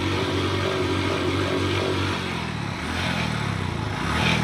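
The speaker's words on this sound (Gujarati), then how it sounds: "એકદમ પૂરેપૂરો રેસ લે છે ગાડી" A Honda Dream motorcycle with a freshly rebuilt engine revs steadily close by, a loud sustained buzzing drone that dips briefly and then rises again.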